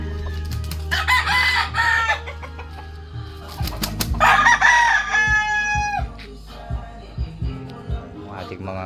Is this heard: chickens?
yes